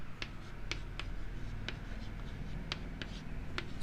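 Pen writing on paper while working a class 10 math exercise, a soft continuous scratch broken by several sharp tapping strokes spaced irregularly across the stretch, close and quiet.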